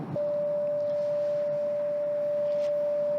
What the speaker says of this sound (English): That noise is the car freaking out because I am too close to the wall here